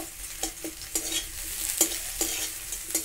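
Onion fries in a pan for a green pea fritter curry, a soft sizzle punctuated by regular clinks and scrapes of stirring, close and fairly quiet.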